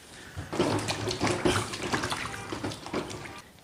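Running water streams steadily over a peeled winter bamboo shoot as it is rinsed in a kitchen, a close, continuous splashing rush with small irregular spatters throughout.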